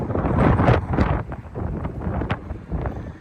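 Strong wind gusts buffet a house roof in roughly 50 mph winds, heard from indoors as loud, uneven rushing surges with rattling thumps over a few seconds.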